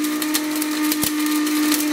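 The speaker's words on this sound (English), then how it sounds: "this blender seemed like it was really struggling" A blender grinding up a Samsung Galaxy S7 smartphone runs with a loud, steady motor whine and rattling, gritty clatter as the device breaks apart, sounding strained throughout.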